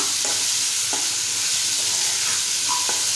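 Spicy cucumber bhaji is stirred in a pan, a steady loud sizzling hiss with a few soft scraping strokes of the spoon, close and with no voices.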